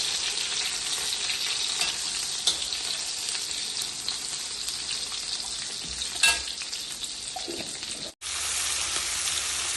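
Steady, loud sizzling of onions frying in a hot pan for a cumin tempering, with occasional stirring scrapes and a brief break near the end.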